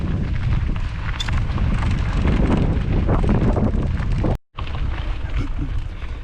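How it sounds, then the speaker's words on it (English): Strong wind buffets the microphone outdoors during a cycling ride, a loud continuous rumbling roar with one brief dropout before it resumes. "It's a bit windy today"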